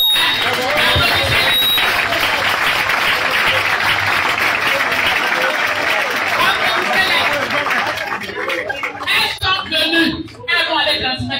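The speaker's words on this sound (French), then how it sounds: "Mais applaudissez les femmes." A large crowd claps and cheers at a gathering in response to a call to applaud the women, with steady dense applause and chatter, thinning out toward the end.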